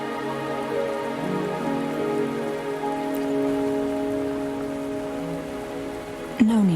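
Steady rain falling in the Wuthering Waves video game, a continuous dense patter on surfaces with a faint tonal hum underneath, ending in a brief sharper splash or rustle near the close.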